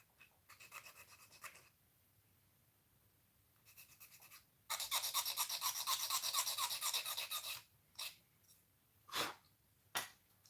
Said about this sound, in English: Okay, and also we sand a bit here.